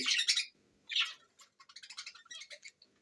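A pair of caged birds chirps in quick, bright bursts, close and clear against a quiet background, with short twittering notes in rapid succession.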